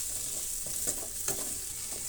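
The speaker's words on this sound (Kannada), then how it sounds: "ಈಗ ನಾವು ರೈಸನ್ನು ಮಿಕ್ಸ್ ಮಾಡೋಣ" Rice and masala stirred in a sizzling frying pan for gobi rice, with a steady hiss of frying and soft scraping strokes of the spoon, close and alone without talk.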